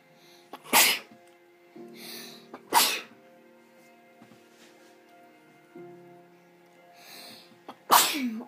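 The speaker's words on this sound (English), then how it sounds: "I hate sneezing, it's the worst thing ever." Several loud sneezes burst out one after another over quiet background music, each a sharp gasp-and-blast, with softer breathy sounds between them.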